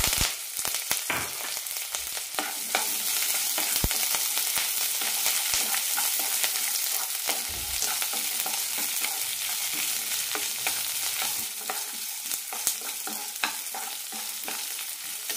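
Onion, green chilli and curry leaves fry with lentils in hot oil, a continuous crackling sizzle broken by frequent sharp spatula scrapes and taps against the pan, close and unaccompanied by speech.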